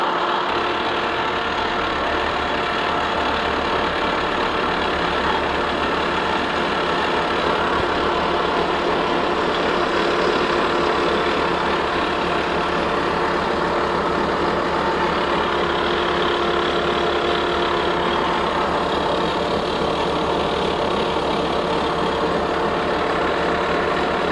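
A metal lathe turns a part at 215 RPM with a 45 thou per revolution feed and 75 thou depth of cut, giving a steady, loud machine drone with a constant hum and no break throughout.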